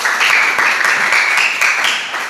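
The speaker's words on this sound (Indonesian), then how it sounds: "berikan aplaus" An audience applauds, with dense, steady clapping that stays loud and close for the whole stretch, with no voices over it.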